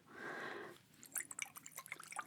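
Rose water drips and patters onto hair in quick irregular droplets, soft and close, after a brief breathy spray-like hiss.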